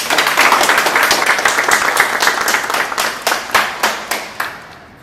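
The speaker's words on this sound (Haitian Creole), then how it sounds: "On applaudit cet esprit." A church congregation claps in a brisk, slightly uneven rhythm, the sharp claps packed close together near at hand and thinning out toward the end of the burst.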